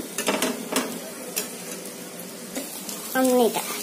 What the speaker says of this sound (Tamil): திருப்பி போட்டு அந்த பக்கம் நல்லா வேக வைக்கணுங்க